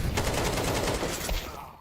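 Rapid gunfire bursts in a Counter-Strike 2 professional match land in a fast string of sharp, close shots, fading out at the end.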